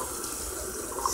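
Hot water runs steadily from a sink tap, a continuous close splashing hiss with no pauses or talking.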